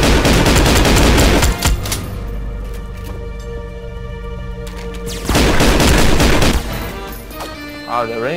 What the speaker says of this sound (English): the range on the automatic shotgun is quite good